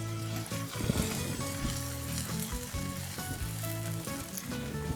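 Buttered bread laid butter side down in a hot pan gives a steady, close sizzling and frying hiss that runs through the whole clip without pause.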